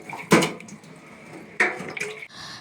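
Boiled chow mein noodles tipped into a basket to drain, with two loud splashy bursts of water, the second trailing into dripping and trickling.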